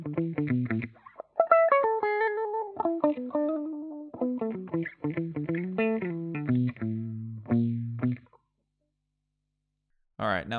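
Neo-soul electric guitar through an effects pedal with frequency, depth and resonance turned up, playing a short melodic phrase of chords and single notes, then a brief silence before another note starts.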